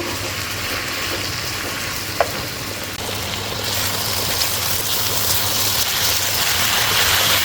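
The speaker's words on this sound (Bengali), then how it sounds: "এখন অনবরত কিছুক্ষণ পর পর মেরে মেরে ভাজিটা আমি তৈরি করে ফেলব" Sliced bitter gourd and Bogura red potato fry in a pan, a steady close sizzle with occasional scraping stirs and a single sharp tap on the pan.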